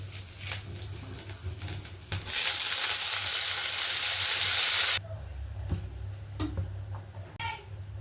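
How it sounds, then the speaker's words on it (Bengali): Jackfruit pieces frying in hot oil in a wok, a close sizzle that swells into a loud, steady hiss for a few seconds, then settles back to softer bubbling with light stirring clicks. "এঁচড়গুলো ভেজে নেবো"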